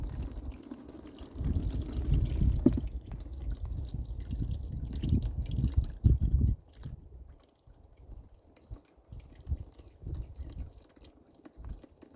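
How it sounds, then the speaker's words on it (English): Motor oil and gear oil drain into a drain pan, a soft pouring trickle with drips, fuller for the first several seconds and then thinning to faint scattered drops. "My drain pan I have here is plenty big enough to hold the motor oil and the gear oil."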